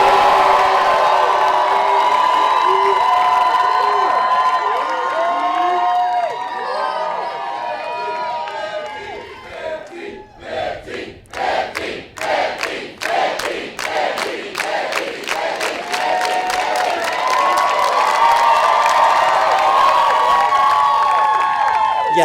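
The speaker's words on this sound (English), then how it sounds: "Is there any chance you have one in you now, a 15 cheer?" Graduating seniors at an Andover commencement shout their school's 15 cheer in a chapel: loud massed voices, then a run of sharp rhythmic claps or stamps that speeds up, then a big roaring cheer at the end.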